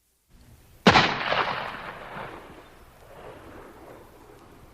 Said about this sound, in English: Carter Drews was calm as he pulled the trigger of his gun.